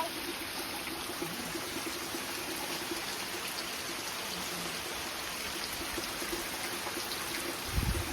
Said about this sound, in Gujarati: મસ્ત વરસાદ આવે છે